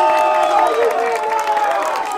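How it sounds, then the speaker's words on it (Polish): Outdoor festival crowd in a park cheers and applauds a winning local sports team at a town-days celebration. Voices rise in sustained, tonal shouts over a bed of scattered clapping, fairly loud and close. "Wielkie brawa dla naszych gladiatorów z Mysłowic."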